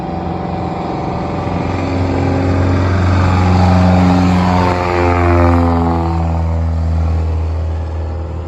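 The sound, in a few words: 160 horsepower Lycoming aircraft engine starting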